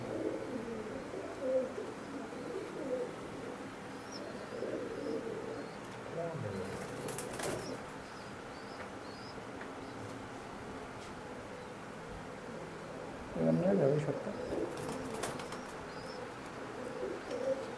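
Imported Teddy pigeons coo in low, soft, repeated phrases, with a louder burst near the end and some wing flapping, under background talk.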